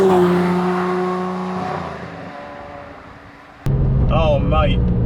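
A Lamborghini Murcielago LP670-4 SV drives through corners, its loud engine tone rising and falling for several seconds before people start talking close over the continuing engine noise.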